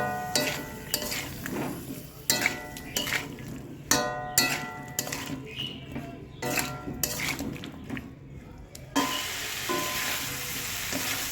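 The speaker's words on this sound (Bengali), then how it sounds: "সবজিটা ভালো করে আমি নেড়ে নেবো এরপর আমি হালকা একটু গরম জল দিয়ে মশলাটাকে ভালো করে কষিয়ে নেবো সবজির সঙ্গে" Vegetables and spices stir-fry for a Bengali shukto, with a little warm water added, sizzling in a pan. A spoon scrapes and knocks against the pan repeatedly, and a louder hiss follows near the end, close up with no speech.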